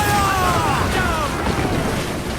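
Naval cannons booming from a sailing ship in Assassin's Creed Black Flag, a heavy rolling rumble throughout with voices calling over it.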